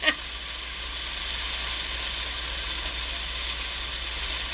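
Stir fry sizzling in a pan gives off a steady, close hiss that holds evenly throughout, with a brief sharp clatter at the very start.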